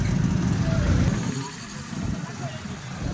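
Stalled traffic near Ranavav's Jambuvant cave, a low steady rumble of idling car and truck engines close by, under people speaking over it.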